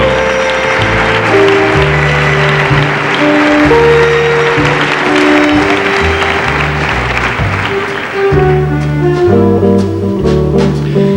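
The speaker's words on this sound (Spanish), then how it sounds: "Para todos ellos, un aplauso" Audience at the Mostra de Valencia film festival applauding the festival jury, a dense sustained clapping over strong tonal music that runs throughout, loud and steady for about eleven seconds.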